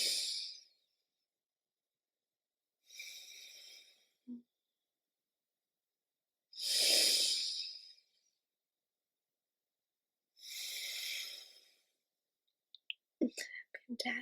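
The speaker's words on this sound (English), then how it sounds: "2 more big breaths" Children in a mindfulness exercise take big deep breaths, four slow airy inhale-exhale bursts spaced a few seconds apart in a quiet room, with faint soft clicks at the end.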